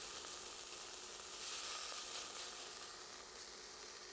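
Finely chopped onions sizzle in a pan before olive oil is added for a Greek Metaxa BBQ sauce, a steady, close, bright frying hiss with no talk.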